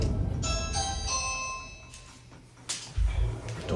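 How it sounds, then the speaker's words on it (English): A doorbell chimes indoors in several bright, ringing tones that overlap and slowly fade, followed by some muffled thumps and room noise. "Doorbell?"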